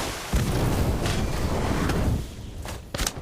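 The Incendio fire spell effect in Harry Potter: Magic Awakened, a dense rumbling whoosh that roars steadily for about two seconds and then fades, followed by a couple of sharper bursts. No one is speaking.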